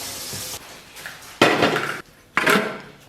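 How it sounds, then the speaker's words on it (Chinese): Blanched pork leg bones being washed, with bursts of running water and hard bones knocking and clattering in a metal basin, loud and close in three separate bursts with short pauses between. "然后咱们把焯好的棒骨给它洗一下"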